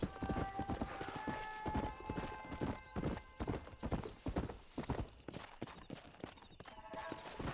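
Horses galloping in the Red Dead Redemption video game, a steady fast clip-clop of hooves with occasional whinnies, loud and continuous throughout with some game sounds layered over it.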